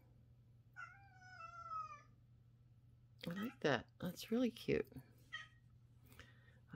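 A pet cat meows insistently to be let outside, a rising wail of about a second standing out near the start, then someone speaks warmly over a low steady indoor hum.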